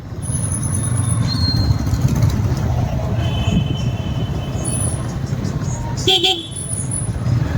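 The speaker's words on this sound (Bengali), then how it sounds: "দেখো আমাদের ২৬ নম্বর হাইওয়ে" Traffic rumbles steadily along National Highway 26 close by, with a bright horn toot near the end and people talking over the road noise.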